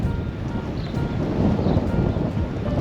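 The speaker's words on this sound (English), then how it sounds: "It's a little breezy today." A steady breeze buffets the microphone on a street just off the main drag in Buchanan, Michigan. It makes a continuous, loud, low rumbling roar with gentle surges and no talking.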